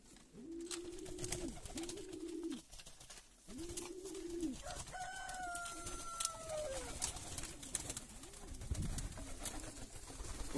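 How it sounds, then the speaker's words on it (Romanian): Pigeons coo in repeated soft, throaty phrases close by, with a higher warbling call rising midway over a steady background hum. "Așteptăm ca porumbeii să bea apă."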